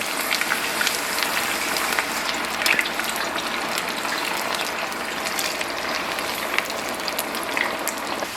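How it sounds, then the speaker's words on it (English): Potatoes deep-frying in hot oil for fries served with a Philly cheesesteak, a steady dense crackling hiss like rain, with scattered sharper pops throughout, close and continuous with no talking. "I'm going to start adding the potatoes for the first round of frying"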